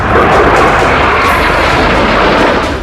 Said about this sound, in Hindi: आसमान में उड़ान भरते फाइटर जेट